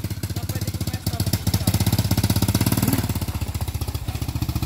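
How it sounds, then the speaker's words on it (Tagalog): A small tora-tora motorized cart engine chugs steadily with a rapid, even putter, running close by and loud throughout without a break. "umandar na ang tora-tora ni paring Randy."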